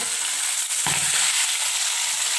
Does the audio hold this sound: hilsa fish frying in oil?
yes